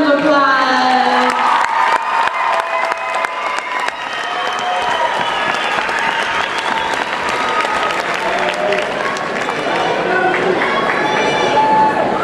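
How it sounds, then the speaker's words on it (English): An audience at a singing competition breaks into sustained applause, dense clapping with scattered cheers and whoops, loud and steady throughout, with some voices mixed in. "please give her a big round of applause"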